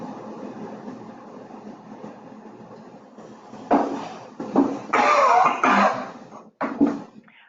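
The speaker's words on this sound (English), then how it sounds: "I heard somebody on the line coughing." Someone on a phone call line coughs several times in a short cluster, rough bursts coming through the compressed line over a low steady hum.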